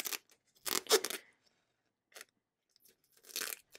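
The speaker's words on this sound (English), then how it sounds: "let's get this tape off of here" Packing tape being torn and peeled off a diamond painting kit package, heard as a few short, close crinkly rips separated by quiet pauses, with no talking.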